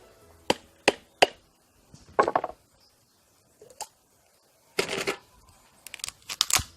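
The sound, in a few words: breaking up a coconut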